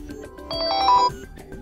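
A brief electronic alarm tone sequence from a Motorola Moto E20 phone chimes, rising in brightness for a moment before stopping, heard close and clear amid light tapping.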